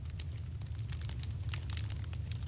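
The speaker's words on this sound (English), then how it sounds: "Is the campfire too loud?" A crackling campfire in a Minecraft-style video game, a continuous low roar dotted with quick, sharp pops and snaps at an even, moderately loud level, with no talking.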